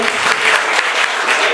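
A room of people bursts into sustained applause for Pierre Lehmann at a biker chapter's anniversary gathering, dense steady clapping throughout with some crowd murmur underneath.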